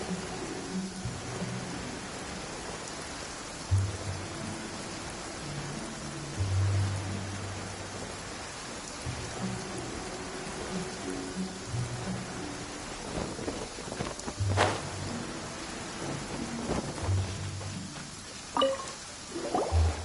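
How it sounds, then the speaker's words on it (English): Steady heavy downpour in a video game, a constant hiss of rain with low thunder rumbling and rolling underneath at intervals, no voices. "Quite a downpour. Nothing will get done until it clears."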